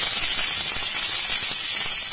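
Curry leaves hit about a teaspoon of hot mustard oil in a pan and sizzle loudly and steadily, a dense, close hiss with no break and no voice over it.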